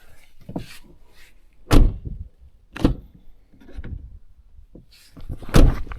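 A parked car's door opens and is handled in several sharp knocks and clunks spaced a second or so apart, close and fairly loud, with quiet pauses between.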